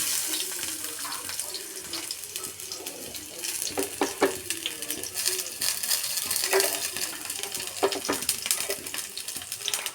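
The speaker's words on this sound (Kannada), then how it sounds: "ಎಲ್ಲ ಗೋಡಂಬಿ ಎಲ್ಲ ಹಾಕೋತಾ ಇದ್ದೀನಿ ಫ್ರೈ ಮಾಡ್ಕೊತೀನಿ ಸ್ವಲ್ಪ" Cashews fry in a little oil in a pan on the stove, giving a soft sizzle with scattered clinks and scraping stirs, fairly quiet and close.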